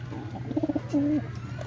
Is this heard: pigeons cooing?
yes